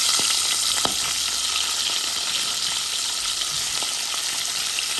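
Potatoes and onions coated in turmeric and salt fry in hot oil with a loud, steady, close sizzle and crackle, with occasional sharp pops and stirring clicks throughout.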